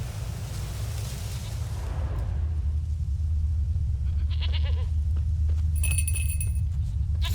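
A goat bleats a few times in The Witcher 3: Wild Hunt over a steady low rumble of ambient game noise, with some faint scattered clicks and tones.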